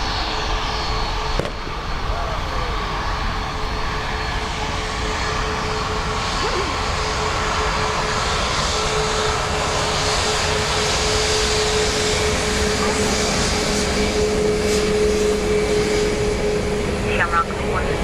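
A departing airliner climbing out over runway 10 right at Dublin Airport, a steady broad jet roar passing overhead and lingering throughout, with air traffic radio chatter and voices heard underneath.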